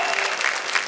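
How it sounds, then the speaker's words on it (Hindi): Audience applause at a Hindi comedy poetry gathering, a steady wash of many hands clapping loudly and close throughout the brief moment, with no talk over it. "तालियां बजाइए।"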